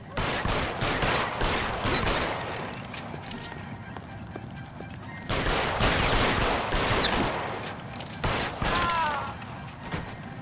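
Gunfire in L.A. Noire: scattered sharp shots and bursts over rapid horse hoof clip-clop and an occasional whinny. Moderately loud, with a voice talking over parts of it.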